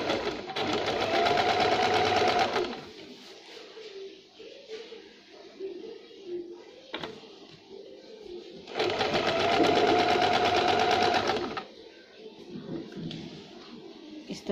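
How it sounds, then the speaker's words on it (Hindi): A sewing machine stitching the armhole and neck edges of a jumpsuit, running in two long steady whirring bursts separated by quieter handling sounds and a short pause. "सीधा करने के बाद आर्म होल की तरफ और नेक की तरफ एक एक फिनिशिंग के लिए सिलाई देंगे।"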